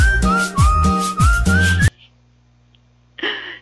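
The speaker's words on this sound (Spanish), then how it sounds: "Eso le hicieron un remix a ese, al silbido de Gohan, que la verdad estuvo bueno, ¿no?" A bright whistled melody, a remix of Gohan's whistle from Dragon Ball Z, over a thumping beat, loud and rhythmic, cutting off abruptly, then a short burst of noisy sound after a pause.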